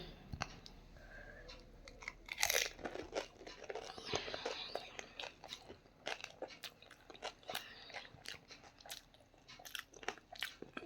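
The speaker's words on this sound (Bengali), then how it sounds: "চাইলে তুমি মচমচ করে খেতে পারো" A crunchy snack is bitten and chewed up close, with repeated crisp crunches and crackles spread over the whole stretch, some louder bursts among softer chewing.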